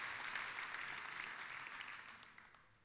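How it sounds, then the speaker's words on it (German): Audience applause at a German live event fills the room, steady broadband clapping from a large crowd that gradually thins and fades toward the end, with no voices over it. "Der Applaus ist für euch."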